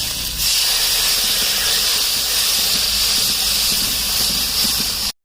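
Masala paste water poured into hot frying spices hisses and sizzles loudly and continuously, a broad steady steam-like rush that cuts off abruptly at the end.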